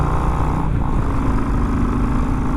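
Kawasaki VN 1500 MeanStreak motorcycle engine drones loud and steady, a dense low rumble with a faint rising tone as it pulls up to speed.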